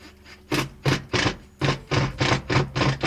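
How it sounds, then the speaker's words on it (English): A screw being driven into a wooden garden sign, heard as a series of loud, rhythmic grinding bursts close up, about eight turns in quick succession after a brief quiet start. "firstly I'm just going to tack it into place with this one screw."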